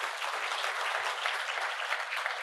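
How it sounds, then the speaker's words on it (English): Dense, steady applause from an audience at a finance event after a panel, filling the whole stretch evenly without any talk. "Let's just give them one more round of applause."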